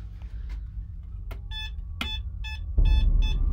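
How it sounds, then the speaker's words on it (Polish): A metal detector gives repeated electronic beeps in a steady rhythm over low background rumble while searching a house cellar near Wrocław, becoming a continuous chirping tone pattern near the end. "Dobra, wjeżdżamy z wykrywaczem."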